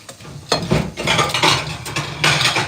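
Utensil scraping and clinking around a bowl as chocolate cake batter is stirred, several loud uneven strokes in bursts, with no talk over it.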